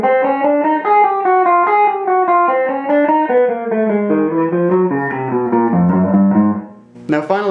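A distorted, effects-laden electric guitar runs a beginner warm-up exercise, alternating four-note climbs and descents across the strings in an even, unbroken stream of picked notes, loud and close, then a short gap at the end.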